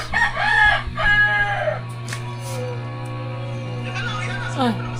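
Chickens and other farmyard birds crowing and clucking close by, loud for a few seconds over a steady low hum, with people talking at intervals.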